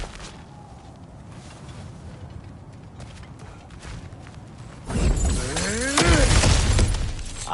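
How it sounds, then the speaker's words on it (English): Cracked ground shatters in the video game God of War, a sudden loud crash of breaking rock and debris after a quiet stretch of ambient sound, with heavy rumbling impacts that continue and build to the end. "Ah, back to smashing through things for fun and profit."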